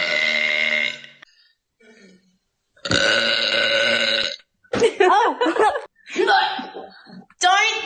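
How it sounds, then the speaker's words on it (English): A girl lets out several loud, drawn-out burps in a row, with short pauses between them and some chuckling and talk around them. "Can you pay for her to burp on command or what?"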